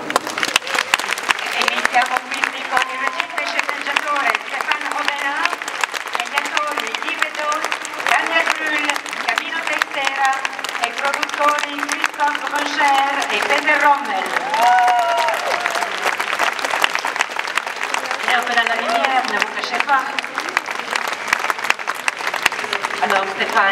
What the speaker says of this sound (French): Je vous demande d'applaudir l'équipe de Et si on vivait tous ensemble.